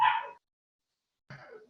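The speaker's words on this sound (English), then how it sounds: "I have a dog barking." A dog barks twice nearby, one sharp bark followed by a pause of about a second before a second bark.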